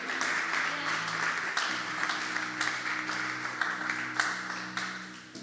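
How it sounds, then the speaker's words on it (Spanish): A church congregation claps in praise, with steady applause and a few sharper claps over a soft, sustained organ-like tone underneath, fading a little toward the end. "Dale un fuerte aplauso al Señor"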